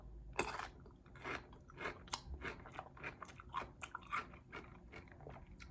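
Crisp crunching bites and steady chewing of a Van Holten's garlic pickle, close to the mic, with repeated moist crunches at an irregular rhythm and no talking.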